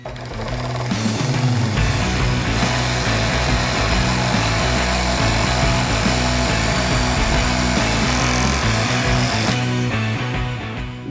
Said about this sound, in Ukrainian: Зараз я буквально за півхвилинки це відріжу, а потім покажу вам, що я буду робити далі.